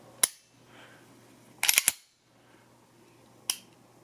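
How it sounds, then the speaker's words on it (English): Three sharp mechanical clicks from the trigger of a CZ75B pistol being pressed, spaced irregularly and standing alone against quiet room noise, with a close double click in the middle. "Alright, so I'm gonna press the trigger."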